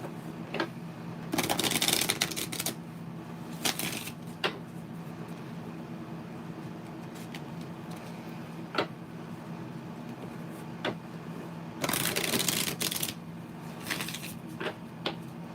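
Tarot cards being shuffled by hand, soft riffling bursts and scattered taps and clicks at close range against quiet room noise.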